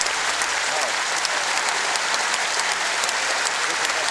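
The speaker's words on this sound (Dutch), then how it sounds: "Het applaus, de steende ovatie van deze man" Loud, sustained applause from a large audience filling the whole stretch, a dense steady clatter of clapping hands, given as an ovation at the 158th PC, a Belgian cyclo-cross race.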